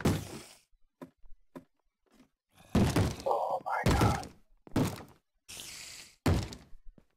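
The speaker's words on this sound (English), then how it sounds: "Is it really necessary for them to bang on these doors when it's not on hardcore mode?" In a video game, zombies pound on doors with a series of irregular heavy thunks and knocks, some in quick clusters, mixed with low groaning between the blows.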